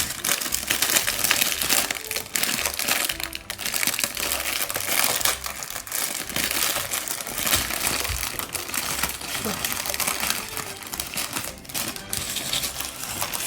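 Dense, continuous crinkling and rustling of a plastic parts bag from a LEGO set, handled close up without pause.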